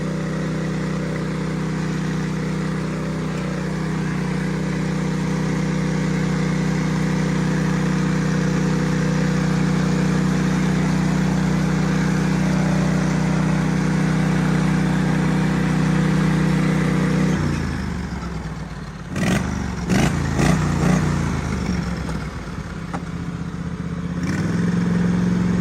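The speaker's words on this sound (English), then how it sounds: "This thing turns some RPMs." A small off-road vehicle engine fitted with a new throttle setup runs loud and steady at high revs for most of the stretch, then drops off and blips sharply several times near the end.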